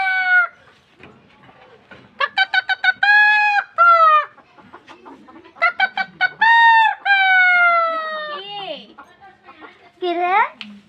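A person's voice imitates a rooster, loud and close, with stuttering clucks that stretch into drawn-out crowing calls, repeated several times over about ten seconds.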